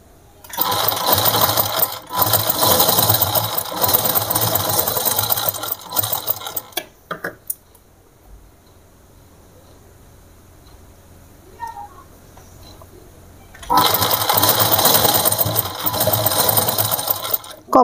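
A sewing machine stitches dori piping in two loud, continuous rattling bursts separated by a long quiet pause with faint handling sounds.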